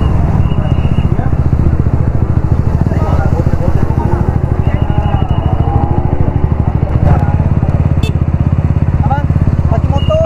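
A motorcycle is ridden on the way to MotoGP at Sepang, its engine droning loud and steady with a rapid pulsing rumble throughout, along with wind rush.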